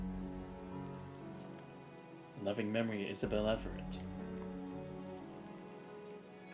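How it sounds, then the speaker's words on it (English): Steady rain falls in Punishing: Gray Raven, a cold drizzle pattering evenly around a flower-covered tombstone. The hiss runs continuously throughout while a voice speaks briefly in the middle. "The rain is picking up."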